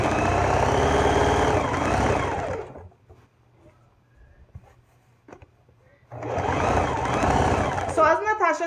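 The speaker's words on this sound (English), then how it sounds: "So you're going to hear me sewing down now." A sewing machine sews a hem on a skirt fabric, running in a loud, steady mechanical whir, pausing for a few quiet seconds, then starting again at full speed.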